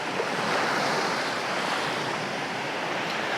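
Steady wash of sea waves rolling onto a beach at Hua Hin, Thailand, a continuous broad roar with wind buffeting the microphone and no voices.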